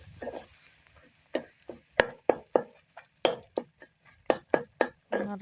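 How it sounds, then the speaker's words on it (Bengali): An egg fries in a pan and is flipped and stirred with a utensil, producing a steady run of sharp scraping clacks against the pan over a low sizzle. "এখন আমি আবার ডিমটাকে উল্টাই দিচ্ছি, উল্টাই দিয়ে ভালো করে ভেজে নিব।"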